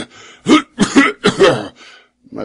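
A narrator's voice imitates a series of harsh coughs and throat-clearing hacks in quick succession, loud and close, followed by a short pause and a final rasp.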